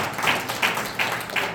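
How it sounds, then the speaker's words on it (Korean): Audience applause at a Korean New Year workshop, heard as a few scattered claps in soft rhythmic bursts from a modest crowd, fairly quiet and without speech. "박수 한번 쳐주시죠"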